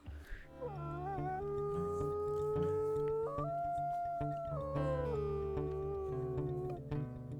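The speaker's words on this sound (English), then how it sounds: "Throw her tail up and howl." A wolf in the WolfQuest video game lets out a long, loud, wavering howl that rises and falls in pitch over several seconds, close and clear, with no talk.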